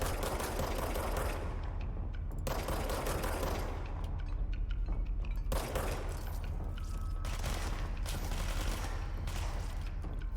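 Rapid gunfire from shooting in a video game, dense bursts of automatic fire with brief gaps, loud and continuous throughout with no talk over it.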